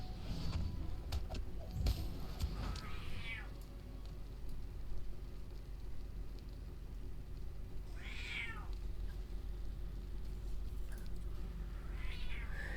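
A cat meows a few times, short rising calls well apart, faint over a low steady room rumble with some scattered clatter near the start.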